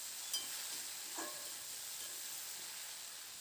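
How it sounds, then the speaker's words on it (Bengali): Poppy seed paste being stir-fried with potatoes and onions in a pan, giving a steady faint sizzle with a couple of light stirring scrapes. "পোস্তটা দিয়ে মিনিট 2-3 মতো আলু আর পেঁয়াজগুলোর সঙ্গে একটু নাড়াচাড়া করে ভেজে নেব।"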